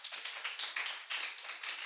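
An audience claps in quick, uneven bursts, faint and somewhat distant, with no voices over it.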